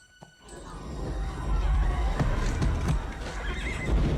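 A horse whinnies in a scene from the fantasy film Dragonheart, a loud, sustained neigh over a busy mix of clopping hooves and rumbling background action.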